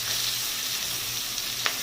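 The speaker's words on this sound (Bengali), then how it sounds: "কেটে রাখা পেঁয়াজ দিয়ে দেবো" Chopped onions fry in mustard oil with bay leaf and whole garam masala for a Bengali mutton kosha, giving a steady, moderate sizzle with one brief clink near the end.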